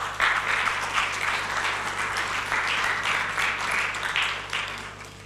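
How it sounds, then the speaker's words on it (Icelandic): Steady audience applause in a church after an introduction of several women at a gathering, a dense even patter of many hands clapping for about five seconds, moderately loud and without voices on top. "Gefið þeim gott klapp."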